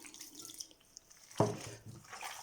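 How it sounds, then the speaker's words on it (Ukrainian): Still mineral water pours briefly into a bowl of ground meat mixture for mititei, with a splashy trickle and a few drips, close by in a quiet room. "і починаю потроху додавати воду."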